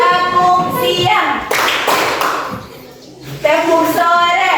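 Children in a classroom chant a clapping routine together, their sing-song voices alternating with bursts of quick, rhythmic hand claps, loud and close.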